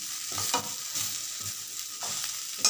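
Vegetarian curry of papaya, potato and soybean chunks being stirred and fried in a pan with light spices, steady sizzle with soft scraping strokes close by, no voices.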